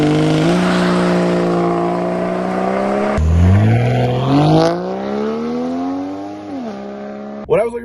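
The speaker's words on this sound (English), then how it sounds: "here's a little flavor of what it sounds like in launch control and just pulling away from a nice" A Volvo V60 Polestar launching hard from launch control: the engine holds a steady loud rev, then drops and climbs strongly through the gears as the car pulls away. The exhaust note stays close and dominant throughout.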